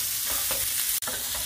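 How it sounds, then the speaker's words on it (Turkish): Julienned peppers sauté in a hot pan, a continuous close sizzle broken by repeated scraping stirs of the spoon through the strips, with no voices. "Hepsini birlikte bu jülyenleri biraz kavuracağız."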